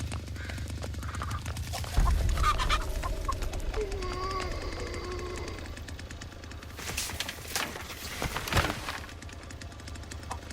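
Chicken clucking in the horror video game Texas Chainsaw, a few bird calls over steady game ambience and bursts of other game noise.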